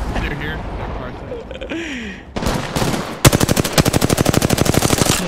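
Rapid automatic gunfire in a shooter video game, loud and close, starting with scattered shots and then a sustained fast burst of evenly spaced rounds; voices and game noise sit underneath.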